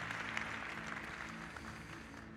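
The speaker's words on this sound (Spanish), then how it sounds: "Otra vez dele ese aplauso al Señor" A church congregation applauds during a Spanish-language service, a steady broadband wash of clapping held at an even, moderate level from start to end with no voices standing out.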